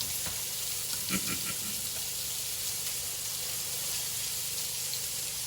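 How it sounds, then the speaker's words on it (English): Lamb chops sear in a hot pan with a steady, broadband sizzle that holds evenly throughout, with a few brief clicks or utensil sounds near the start and no voices. "we're gonna sear our lamb chops all the way around"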